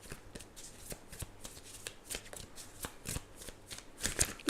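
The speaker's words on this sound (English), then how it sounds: "I'm going to pull some cards out. Let's get some of these out." Wisdom of the Oracle cards are shuffled by hand in soft, rapid riffling and tapping strokes, close and quiet, with no one speaking.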